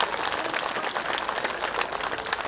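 A large crowd at a rally in Madanapalle claps loudly and steadily, a dense uninterrupted wash of hands with no voices standing out.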